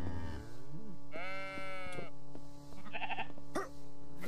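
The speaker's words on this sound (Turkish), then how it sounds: "Bu inek biraz fazla bağırıyor ama." A cow in The Anomaly Project game lets out a series of drawn-out, wavering moos, close and fairly loud, repeated several times in quick succession with no talking.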